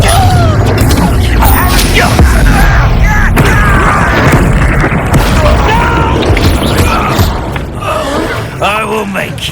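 A loud, booming blast from a Confringo spell in Hogwarts Legacy, followed by crashing, rumbling impacts and chaotic combat noise, with voices shouting over the fray.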